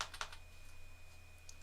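Quiet clicks of keys pressed on a ThinkPad laptop keyboard, a quick cluster of taps at the start and a few lighter ones later, over a steady electrical hum.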